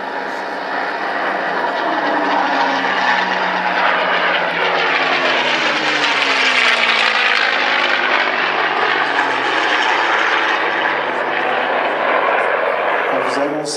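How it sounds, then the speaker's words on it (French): A P-51 Mustang with a Rolls-Royce engine passes at an air show, its propeller drone loud and steady as the engine pitch sweeps and shifts over the run. "Il a le son du moteur Rolls-Royce en version."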